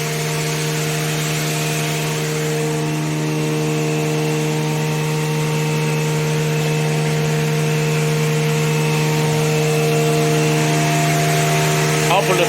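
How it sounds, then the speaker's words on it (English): A DaCoo hand towel folding machine with a folding roller and cutting roller runs steadily, a loud continuous mechanical drone with strong tonal hum and a servo motor whine, unbroken throughout. "Folding roller, and here's the folding roller with the cutting."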